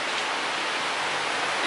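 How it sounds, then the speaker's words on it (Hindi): Steady rain falls outside a train station in Kuala Lumpur, a dense, even hiss of drops on surfaces that stays constant throughout, with no voices. "अभी बाहर बारिश हो रही है"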